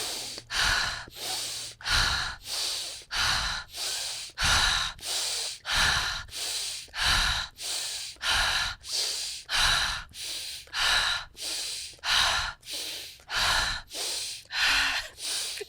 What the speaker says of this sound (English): About 30 to 40 breaths.